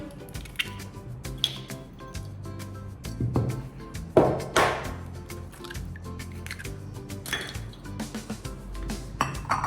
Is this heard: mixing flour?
yes